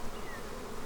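Honeybees buzz as a steady, dense drone throughout a short moment of a hive inspection, with a heavy brood frame lifted from a green and red bee barn box.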